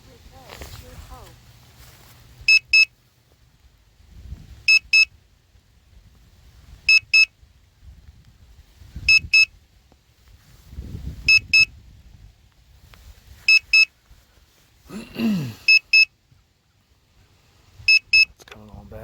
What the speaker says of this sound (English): Let me hit the hold the function key in, turn that beeping off.